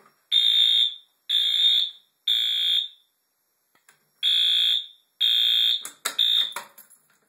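A Wheelock AS fire alarm horn sounds during a system test in loud, evenly spaced pulsing blasts with a brief gap midway, then clicks and rattles as it shuts off.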